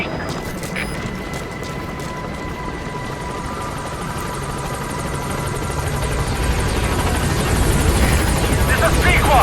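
A Pequod helicopter holds over a landing zone in Metal Gear Solid V: The Phantom Pain, its steady loud rotor roar building slightly toward the end, with radio chatter over it.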